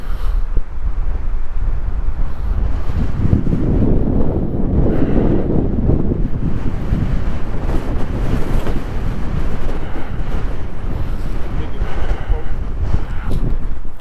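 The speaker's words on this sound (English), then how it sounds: "All right, guys, this is windy." Strong wind buffets the microphone with a heavy, continuous roar and rumble during a ride on a Super73 RX electric bike near Big Laguna Lake, swelling and easing throughout.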